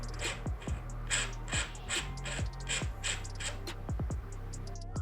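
Outer barrel cap of an SSG96 MK1 airsoft rifle screwed on by hand: scattered light metallic clicks, ticks and thin scraping creaks, close and fairly quiet, over a steady low background hum with no talking.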